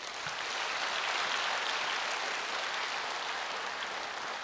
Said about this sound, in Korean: 축하의 박수를 좀 보내주십시오